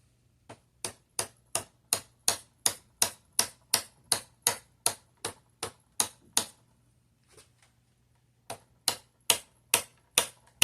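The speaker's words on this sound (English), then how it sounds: "I'm going to give it some taps with the hammer" A hammer taps a wooden dowel to drive a stuck squib bullet out of a Colt .357 barrel. About twenty crisp, evenly spaced taps come close-up, followed by a short pause and then a few more taps.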